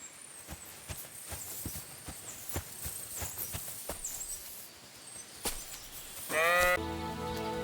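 Sheep bleat near the end in Kingdom Come: Deliverance II, a distinct close call following a steady rhythm of footsteps on soft ground, against quiet outdoor ambience.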